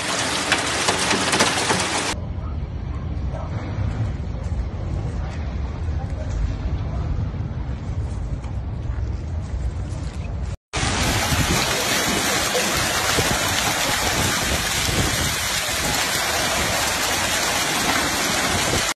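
Heavy hail pounds down during a severe storm in the south of Mar del Plata, with stones nearly golf-ball size; a dense, loud, continuous roar of impacts fills the scene, briefly cutting out before resuming just as intense.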